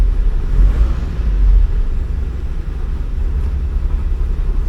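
A 1979 Porsche 924 engine idles nearby in a steady low rumble, the tone wavering slightly as it settles, with no talking.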